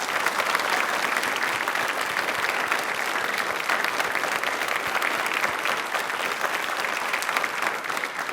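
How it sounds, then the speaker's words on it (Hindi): A television quiz show's studio audience gives loud, sustained applause, dense and steady clapping from many hands continuing throughout without a break. "एक बार जोरदार तालियां हो जाए"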